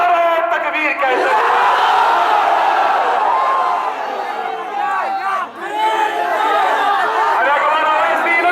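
A large crowd at a political rally answers a Takbir slogan call with a loud, sustained mass chant of many voices, rising and falling together over several seconds.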